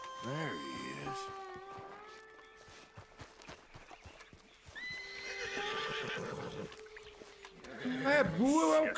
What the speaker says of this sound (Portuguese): Tem um cavalo ali.